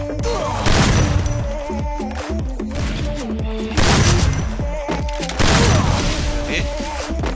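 Free Fire mobile shooter gameplay brings rapid, booming gunshot bursts and heavy impacts in repeated loud clusters over a dense, busy game soundtrack, with a voice talking faintly underneath.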